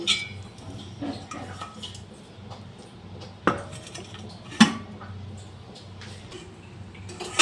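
A metal lid clanks onto a cooking pot of potol dalna with the gas turned off: two sharp knocks stand out over a quiet kitchen background.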